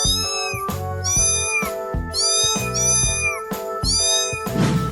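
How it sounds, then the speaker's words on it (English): A cartoon cat in a 3D animal slide video game meows loudly and clearly, giving several drawn-out, wavering calls one after another with no talking over them. "Cat."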